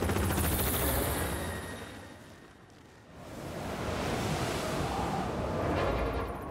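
Steady roaring whoosh of a helicopter in an animated children's show, flying in snow, loud and broadband, dipping briefly in the middle before swelling back; no voices.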